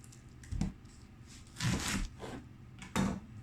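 A kitchen knife slices through cabbage quarters on a chopping board while making coleslaw, three distinct crunchy cuts, each ending in a thud on the board, close and clear with quiet pauses between.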